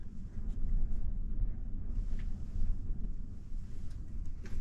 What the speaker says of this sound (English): It's getting so windy.